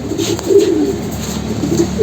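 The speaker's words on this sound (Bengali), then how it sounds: "এটা ওনার বাসার একেবারে পুরাতন একটা কবুতর" An old pigeon coos in low, rolling phrases, close and fairly loud, with two or three coo bursts over a steady background hum and no talking.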